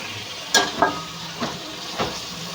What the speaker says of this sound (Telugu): పనస గింజలు కూడా వేసుకొని ఇవి కూడా ఫ్రై చేసుకోవాలండి